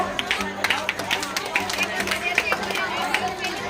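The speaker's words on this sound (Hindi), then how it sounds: "जोर से ताली बजाओ।" An audience at a Krishna Janmashtami celebration claps loudly in rapid, uneven bursts amid crowd chatter, the applause close and continuous for a few seconds.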